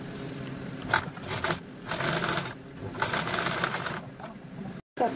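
Sewing machine stitching lace piping from an old saree, several short rattling bursts of stitching separated by brief pauses, fairly quiet and close.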